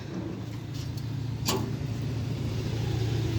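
A car pulls up outside a gate for a morning work pickup, its engine idling in a steady low rumble throughout with a brief clunk partway through.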